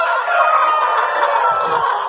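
Close, busy clucking and squawking from a group of hens at their feeding area on a farm, continuous and fairly loud, with no talk over it.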